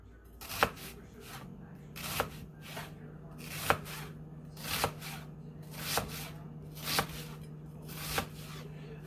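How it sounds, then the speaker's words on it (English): A knife chopping through a peeled vegetable on a cutting board, about eight evenly spaced, crisp knocks over a faint low hum, close and fairly quiet. "Once I got that outer peel taken off, I'm going to slice in half."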